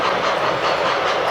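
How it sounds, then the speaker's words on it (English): Die-cast Imperial steamer model train with engine and tender rolling along, a dense steady rumble and hiss of wheels on track, loud and close. "It's a beautiful Imperial steamer, all die-cast engine and tender."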